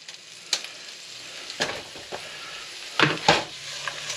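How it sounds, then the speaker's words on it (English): A whole rainbow trout frying in a pan of butter and olive oil gives a soft, steady sizzle, broken by a few sharper pops and light scrapes of a utensil against the pan. "I like to drop some olive oil ahead of time just to kind of give them a quicker, a more complete fry"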